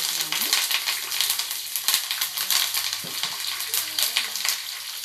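Curry leaves frying in very hot oil for a ginger pickle, a steady close crackling sizzle with sharp pops and spatters throughout, alone with no talk.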